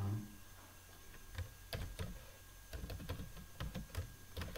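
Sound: typing HTML on a computer keyboard

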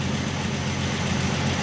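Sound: 1967 Mustang inline-six engine idling

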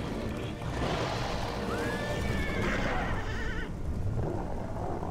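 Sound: horse neighing in Castlevania Lords of Shadow video game

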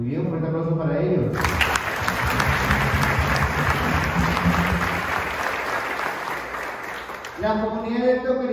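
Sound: congregation applause in church

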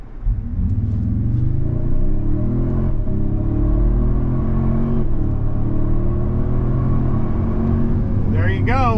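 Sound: SUV engine accelerating

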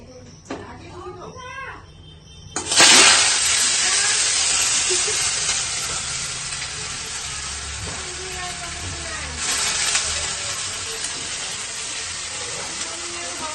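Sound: potatoes frying in hot oil

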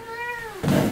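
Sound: Devon Rex cat meowing

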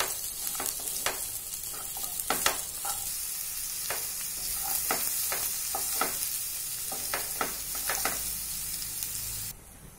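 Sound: onions and grated ginger sautéing in pan

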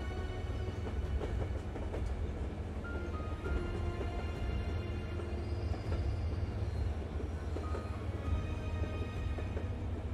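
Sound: train moving along rails in Zompiercer video game

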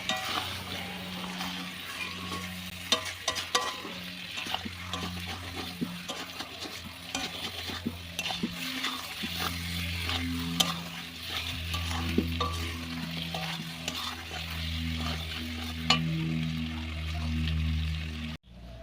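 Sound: meat being stir-fried and sautéed in a pan

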